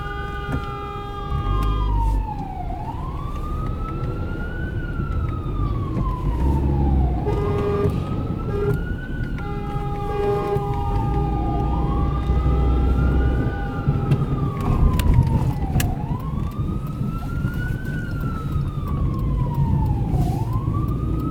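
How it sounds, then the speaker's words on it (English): An ambulance siren wails in repeated rising and falling sweeps, moderately close, over steady road traffic rumble in Flatbush, Brooklyn, with no talking. "the sirens behind me again"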